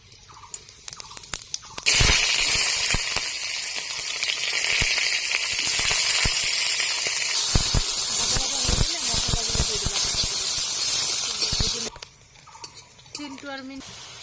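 Cumin seeds hit hot oil in a wok while ghugni is being cooked, setting off a sudden loud hissing sizzle that runs for about ten seconds before cutting off abruptly.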